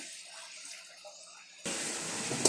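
Water is poured into a pan of quail masala curry, starting abruptly as a steady, close gush after a quiet stretch.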